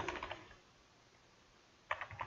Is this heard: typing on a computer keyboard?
yes